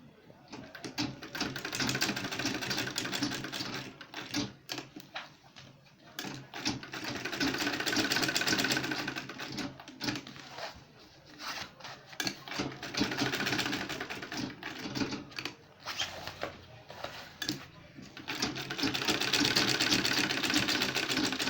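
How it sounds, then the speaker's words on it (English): Sewing machine stitching an insulated lunch bag, running in steady rapid bursts of mechanical clatter that stop and restart several times, close and loud with no talk. "So I'm going to sew 3 inches"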